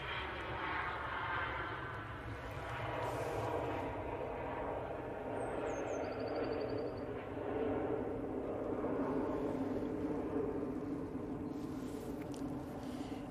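An EasyJet airliner on short final approach to runway 05 left at Manchester Airport sounds as a faint, steady engine drone with low rumble, a distant whine layered over it and birds chirping briefly.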